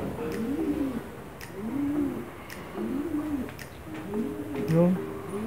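A pigeon coos repeatedly in a steady rhythm of low, throaty warbles, close by in a loft, with a few sharp clicks and scuffs in between.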